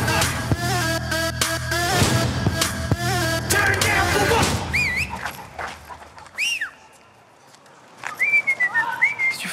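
A person whistles in short, gliding, high-pitched notes, first under loud noisy background sound and then more clearly in a quieter stretch.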